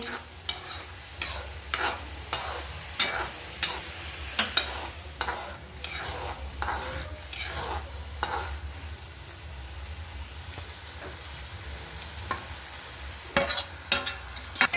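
A sweet Gujarati chapati filling with cardamom powder being stirred in a pan over the flame: a soft continuous hiss of frying under repeated close spatula scrapes and taps, busier near the end, with no voices.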